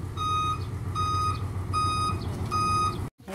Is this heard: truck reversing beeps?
yes